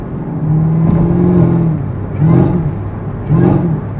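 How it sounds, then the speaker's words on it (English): Car engine with a Corsa Performance cold air intake, gas tapped to bring three short revving swells of intake roar over a steady idle hum, close and fairly loud. "When I like tap the gas, you can hear the intake like wow."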